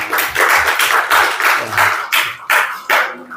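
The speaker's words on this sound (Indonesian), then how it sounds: "Karena itu kita kasih aplaus dulu deh." An audience inside a mosque claps, giving a brief burst of uneven applause with distinct, close hand claps.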